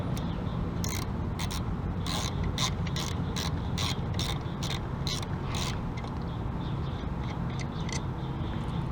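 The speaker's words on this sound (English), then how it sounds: "Just take this bolt off." A ratchet wrench clicks in rapid bursts while backing out a bolt during half-shaft removal on a Chevy Malibu, close and steady over a constant mechanical hum, with no talking.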